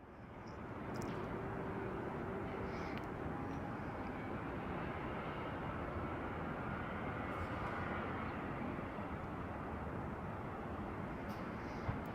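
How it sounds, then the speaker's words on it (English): A JetBlue Airbus A320 airliner arriving at Salt Lake City International Airport, heard as a steady, loud broadband jet roar that holds at an even level throughout with no talking. "arriving from JFK on an Airbus A320"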